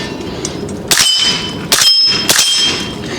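Three suppressed subsonic .300 AAC Blackout shots from a custom AR-15, each a sharp crack followed by a metallic ring from a distant steel target, spaced under a second apart.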